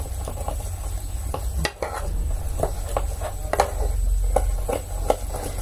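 Ground breadcrumbs being stirred into a fava bean mixture, a steady scraping and stirring with soft knocks and clinks of a utensil against a bowl, close and repetitive, with no talk.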